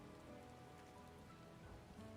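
Rain pours steadily in Final Fantasy XIV Dawntrail, a dense, continuous patter of drops on surfaces, fairly quiet and unbroken, with no one speaking.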